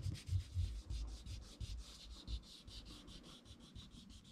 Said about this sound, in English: I'm just gently rubbing over that outline to make it a bit lighter and not so dark.